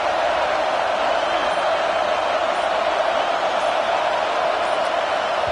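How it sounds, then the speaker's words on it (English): A packed stadium crowd at a TCU football game roars loudly and continuously, a dense wall of sustained noise with no breaks or commentary. "with this place rocking, the crowd forces a false start"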